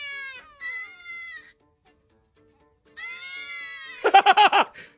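Frightened cats meow and yowl in several drawn-out, wavering cries separated by a pause, close and fairly loud, ending in a burst of sharp, rapid yelps.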